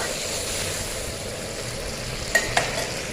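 Cabbage frying in a pan makes a steady, even sizzle close by, broken near the end by two quick clacks of a utensil.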